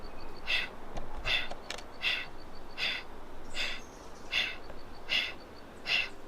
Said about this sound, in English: We're going to fill up our bellies all the way up and then focus on little exhales.